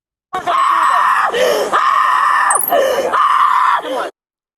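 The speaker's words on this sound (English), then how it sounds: "the girlfriend began to scream loudly in distress, upset about the damage" A woman screams loudly in distress over damage to her vehicle, three long, sustained, piercing wails with brief gasping breaks between them, close and intense.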